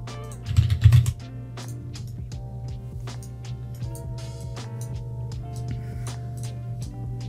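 Light computer keyboard keystrokes, a few scattered taps over a steady hum of background music, with a louder thump near the start and no voices.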